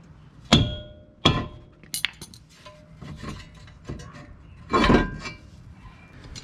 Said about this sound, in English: Removing the rotor. I'm going to be hitting it with my rubber mallet.